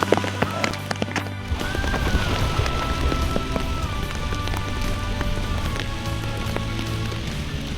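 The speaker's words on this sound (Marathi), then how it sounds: "जस्ट जात होतो आणि पाऊस चालू झाला" Steady rain pattering on a surface throughout, with a low hum and a few scattered clicks and knocks in the background.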